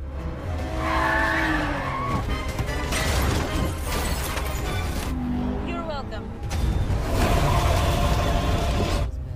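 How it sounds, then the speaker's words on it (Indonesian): A car speeds through a chase in the Black Widow film, with loud continuous engine roar and tire skids, a brief quieter dip midway, all over dense film score and effects. "Lalu mereka mengemudi secepat mungkin untuk menghindari Taskmaster"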